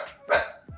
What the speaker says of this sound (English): Wait, whose dog is that?